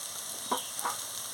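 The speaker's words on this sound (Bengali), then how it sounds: "এবার আমি আদা বাটা রসুন বাটা দিয়ে দিচ্ছি," Ginger and garlic paste hits hot oil in a pan with onions for an okra and potato curry, a loud, steady sizzle with two quick scraping stirs.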